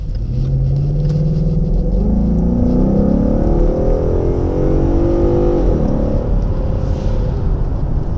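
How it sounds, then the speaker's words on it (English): A Mustang with an automatic transmission pulls away under acceleration, its engine rumbling loud and near from inside the cabin, the pitch climbing smoothly through shifts with no talking. "taking off here in the Mustang with the automatic transmission"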